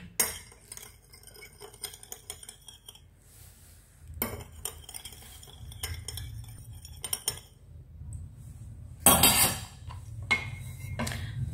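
Utensils clink against a bowl while stirring a lime juice mixture, in intermittent bursts of scraping and chinking with quiet gaps between.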